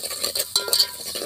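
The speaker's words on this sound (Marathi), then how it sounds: "पाट्यावर वाटलेल्या मसाल्याचा पेस्ट आपण होऊ द्यायचा चांगला तेलामध्ये" Stone-ground masala paste frying in oil for veg biryani gives a hissing sizzle with small crackles and utensil knocks, steady and close.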